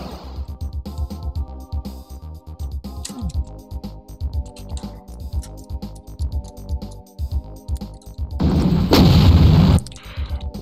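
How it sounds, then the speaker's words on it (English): Rocket launcher blasts and explosions in a Doom map, loud repeated booms over busy game music, with a heavy roaring burst near the end. "Oh, it's a rocket launcher."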